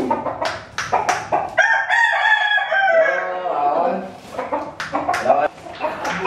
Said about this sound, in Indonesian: Ayam juara ieu mah atuh.